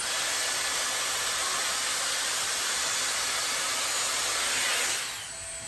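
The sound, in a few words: Dyson Airstrait hair dryer-straightener drying a section of hair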